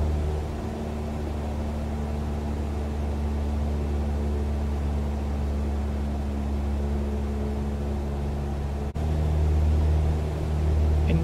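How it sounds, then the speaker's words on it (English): Light aircraft piston engine in straight and level flight, a steady loud cockpit drone with low harmonic hum as the throttle is reduced and RPM winds down, a slight shift in tone near the end. "you can hear the sound of the engine RPM decreasing"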